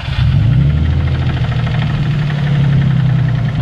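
A Nissan G35 engine with internal damage idles roughly and loudly nearby, a steady low drone with a faint rhythmic knock running through it, struggling to stay running.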